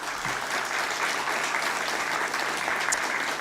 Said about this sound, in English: Let's give a huge round of applause for this joyous occasion.